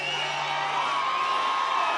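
Large political rally crowd in Commerce, Georgia cheering and whooping, a continuous dense roar of many voices heard from a distance and holding steady.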